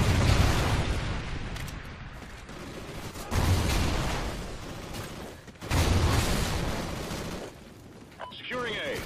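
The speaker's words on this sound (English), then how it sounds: "Friendly Trinity rocket inbound." Heavy booming explosions from Trinity rocket strikes in a military shooter video game, rolling in several loud bursts with dense rumbling tails, mixed with game voice callouts.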